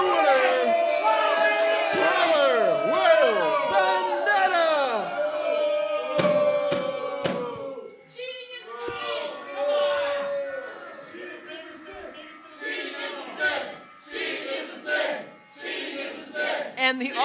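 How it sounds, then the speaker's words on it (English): Wrestling crowd at an IWE BattleZone event voicing loud, sustained disapproval of Will Vendetta after his win, a dense wall of shouts and jeers swelling and dipping over about seventeen seconds with scattered whoops and sharp cries. "And the audience booing Will Vendetta"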